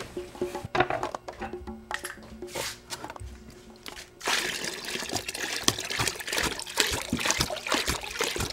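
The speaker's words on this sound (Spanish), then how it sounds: "Toda la paciencia del mundo, esta cisterna y yo necesitando el agua." Water trickling and splashing into a cistern, a continuous wet gurgle with drips that grows fuller and louder halfway through, close by with no talk.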